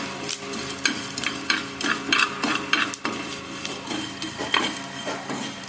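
Mustard seeds and chicken masala fry hard in a pan, popping and crackling loudly and densely while a utensil clatters and stirs against the metal throughout.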